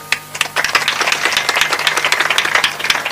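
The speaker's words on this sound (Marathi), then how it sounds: "मी गुरुवर्य बापूदेव महाराजांसाठी टाळ्या वाजवायला सांगितलं तुम्हाला" A kirtan audience claps for Guru Bapudev Maharaj in dense, loud, sustained applause, many hands at once with a lively uneven rhythm, starting after a brief pause and continuing throughout.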